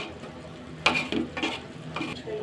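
Hilsa fish cooking down into a bhuna in a pan, giving a soft steady sizzle with a few louder stirring scrapes and clatters close by, and no talk.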